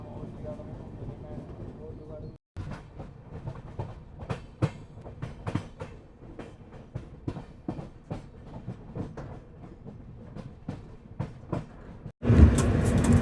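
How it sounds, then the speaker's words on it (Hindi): Sairang Rajdhani Express running on the Kanpur-New Delhi section, a steady loud rumble with rapid clickety-clack wheel beats over rail joints; a brief gap near the start and a sharp burst of wind noise at the end. "पहले स्टेशन को क्रॉस करने के साथ ही हमने पहला ओवरटेक कर लिया है"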